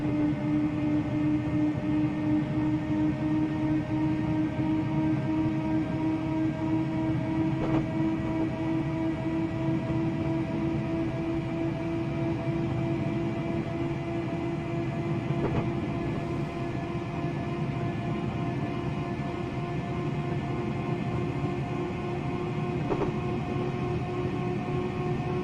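A Class 503 electric train runs steadily in Train Simulator Classic between Sheerness-on-Sea and Ebbsfleet, a constant motor whine and rumbling wheel noise with faint periodic clicks from the track.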